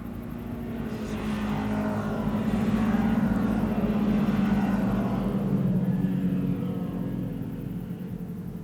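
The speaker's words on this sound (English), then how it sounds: "I'll have planes just like a aircraft similar to that" An aircraft passing overhead, a broad, steady rumbling roar that swells toward the middle and slowly fades, loud and continuous with no speech.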